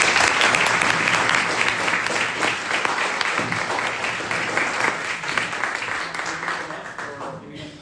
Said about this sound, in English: can we just give a round of applause for?